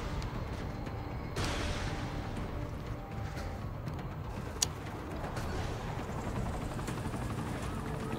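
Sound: helicopter in video game Saints Row: The Third

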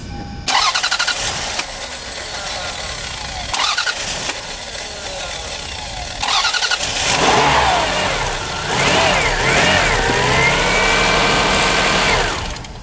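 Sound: 2002 Lexus RX300 engine starting and idling

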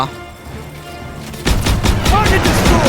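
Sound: gunfire in the video game Call of Duty WWII

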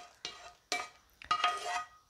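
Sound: stirring roasted cashews into payasam in a pan

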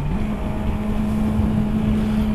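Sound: Yamaha R6 motorcycle engine with Yoshimura exhaust pipe

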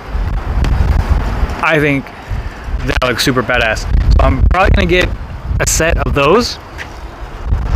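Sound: wind blowing into the microphone outdoors

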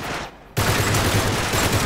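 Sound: gunfire in the video game Uncharted 3

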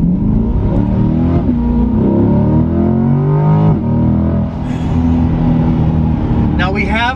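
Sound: Mustang GT engine revving with high-flow catalytic converters

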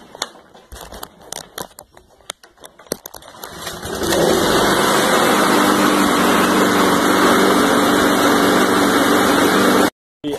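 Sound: John Deere JS36 lawn mower engine starting and running

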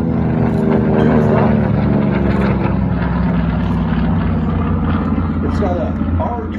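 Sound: TBM Avenger torpedo bomber aircraft engine, Curtiss-Wright R2600

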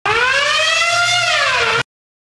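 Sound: alarm going off

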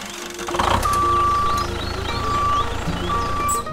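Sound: crane truck operating with reversing beeps

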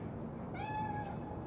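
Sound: cat meowing in the video game Cyberpunk 2077

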